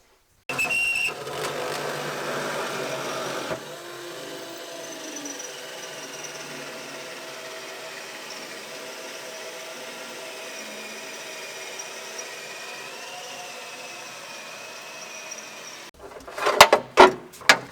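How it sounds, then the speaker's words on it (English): A power drill whines steadily for several seconds, bores a hole through a car's metal, then cuts off, followed by a few clattering knocks. "So I'm going to go ahead and drill the hole out for it right now."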